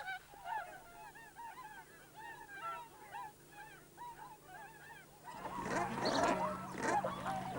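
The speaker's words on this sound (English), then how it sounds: "Milling about on the pond at Slimbridge, the swans seem just a big flock of birds" A big flock of swans on a pond at Slimbridge gives repeated overlapping honking calls, moderately distant, swelling into a louder, denser chorus of calls and splashing toward the end.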